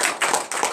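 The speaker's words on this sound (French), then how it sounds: "Donnez l'acclamation à Jésus." A church congregation at a morning prayer service in Comè, Benin, bursts into close, dense applause, a quick rush of many hands clapping in brief waves.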